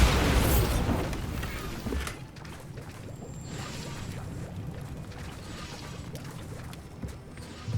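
A loud, close blast from the Bombarda spell in Hogwarts Legacy bursts out at the start, then decays over about two seconds into a low rumbling, crackling tail of scattered debris.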